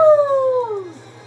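A single mournful dog howl from the video game Undertale glides downward in pitch for about a second, clear and close, over a faint electronic hum.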